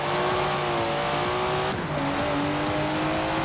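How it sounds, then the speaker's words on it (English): A Datsun car engine in Forza Horizon 4 revs hard and loud, climbing through the gears with a brief drop at a shift before pulling up again, close and continuous with no talking. "Never heard a Datsun sound like that, have you?"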